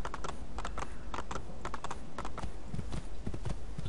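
Horse hooves gallop in Assassin's Creed 2, a fast, steady run of hard clip-clop beats that stays close and loud through the whole stretch, with no talk over it.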